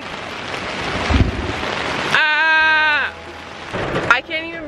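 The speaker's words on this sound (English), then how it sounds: "It's raining, thundering." Heavy rain hisses steadily at a Michigan campsite and a low thunder rumble rolls through, followed by loud, wavering bleat-like cries close to the microphone.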